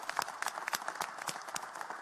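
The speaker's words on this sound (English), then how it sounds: "Commissioner Del Rossi, I think this is important for us to give you and your team an amazing round of applause" At a Philadelphia press conference on winter storm clean-up, a small audience gives faint, scattered applause, with quick clap bursts coming at an uneven rhythm.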